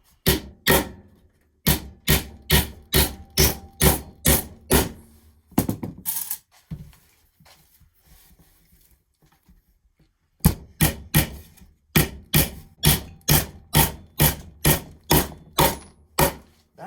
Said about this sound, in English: Remember pattern nailing.